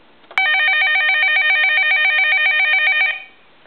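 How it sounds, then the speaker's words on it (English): A Radio Shack telephone's bell rings in one sustained, loud electronic trill lasting about three seconds, alone and close by. "And then I want to ring the phone."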